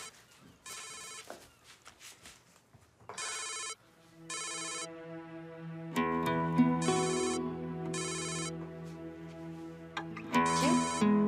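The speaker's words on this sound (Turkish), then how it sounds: "Telefonu çalıyor." A mobile phone rings in a home with a repeating electronic ringtone melody in regular bursts, fairly loud and close, growing fuller as it goes on, with no talk over it.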